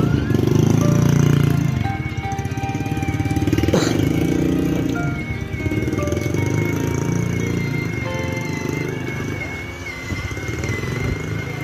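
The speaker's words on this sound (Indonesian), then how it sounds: "Awas motor." A motorcycle engine drones nearby, rising and easing as it passes, with a fainter small motor whining underneath throughout.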